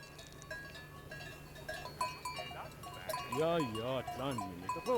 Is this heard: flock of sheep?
yes